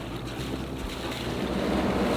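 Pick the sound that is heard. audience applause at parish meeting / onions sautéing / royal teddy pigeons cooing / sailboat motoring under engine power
sailboat motoring under engine power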